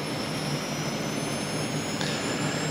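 SK60 jet engines running in the DCS flight simulator game after a cold start, a steady, loud turbine roar with a high whine that holds throughout, no voices.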